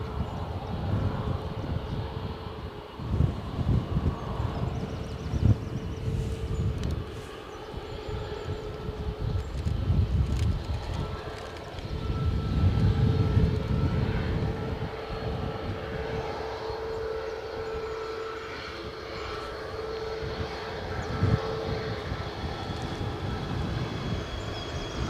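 A Logan Air ATR turboprop sits at Edinburgh airport as its engines spool up in a steady distant whine and drone, with a low rumbling background that swells and fades over a long stretch.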